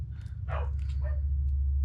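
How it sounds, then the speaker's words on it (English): A pet dog gives a couple of short barks and yips indoors over a steady low hum, brief and fairly close. "I have dogs, they bark."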